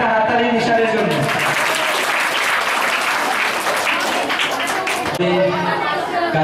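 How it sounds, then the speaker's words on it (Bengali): Audience at a coaching centre's cultural programme gives a magic act a loud round of clapping, dense and steady, with a speaker's voice over the start and end and crowd chatter beneath. "একটা হাততালি নিশানের জন্য"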